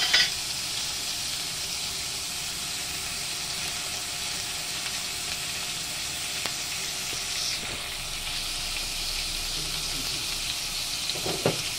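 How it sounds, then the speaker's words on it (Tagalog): Garlic and onion sautéing in a pan for a bean sprout and tofu dish, with a steady close sizzle and hiss and a few faint utensil taps. "Igisa lang natin yung ating bawang sibuyas."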